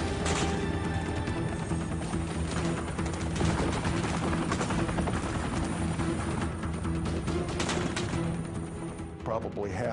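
A Black Hawk helicopter hovers loud and close as ropes are thrown for fast-roping, its dense rotor and engine roar steady throughout with rattling bursts like gunfire mixed in.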